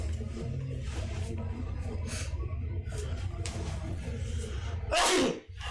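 Quiet murmuring voices in a room, followed near the end by one sharp, loud sneeze.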